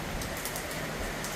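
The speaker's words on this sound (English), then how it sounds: "Now it's raining pretty good." Pouring rain during the Philippine rainy season makes a brief, steady wash of hiss, fairly loud and unbroken, with no talking.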